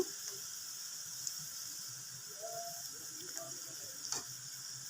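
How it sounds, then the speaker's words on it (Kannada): Onion pakoda batter fries in hot oil, giving a quiet, steady sizzle and faint bubbling with a few soft clicks, heard alone without talk. "ಕಾದಿರೋ ಅಂಥ ಎಣ್ಣೆಗೆ ನನಗೆ ಹೇಗೆ ಬರುತ್ತೋ ಹಾಗೆ ಹಾಕ್ಕೊಂಡಿದ್ದೀನಿ"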